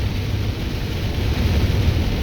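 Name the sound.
rain picking up outdoors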